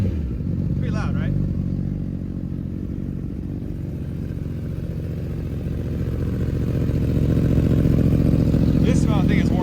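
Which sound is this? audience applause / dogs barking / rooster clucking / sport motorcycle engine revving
sport motorcycle engine revving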